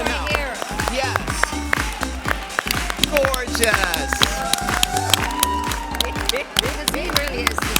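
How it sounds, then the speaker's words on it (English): A studio audience claps and cheers at a dog contest, the applause steady and dense with a rhythmic pounding beat beneath it and a voice speaking briefly over the crowd. "Big round of applause."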